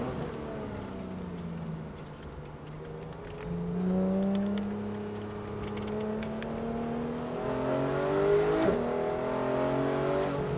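A Porsche 911 GT3 accelerates around a race circuit, its engine note rising through repeated climbs in pitch as it pulls through the gears, heard steadily from inside or close by.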